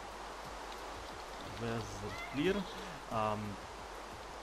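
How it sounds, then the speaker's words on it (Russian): Steady rain hisses in Minecraft with the Pixelmon mod, a constant soft wash running the whole time while someone talks over it. "Нет, дождик."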